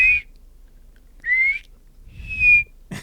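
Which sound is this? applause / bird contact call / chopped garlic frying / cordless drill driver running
bird contact call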